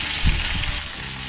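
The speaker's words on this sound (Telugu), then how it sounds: "తర్వాత ఒక రెండు ఎండుమిరపకాయలు కట్ చేసుకుని వేసుకోవాలి అలాగే కొద్దిగా కరివేపాకు వేసుకుని వీటన్నిటిని బాగా ఫ్రై అవనివ్వాలి" Garlic, dried red chillies and curry leaves sizzle in hot oil in a pan for a brinjal-tomato chutney, a brief, close, steady crackle with one small pop near the start.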